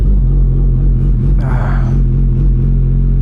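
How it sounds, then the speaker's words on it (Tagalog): A Kawasaki Ninja 1100SX fitted with an SC Project exhaust idles close by in a steady, deep, low rumble, with a brief hiss of noise over it midway. "Tunog ng SC Project."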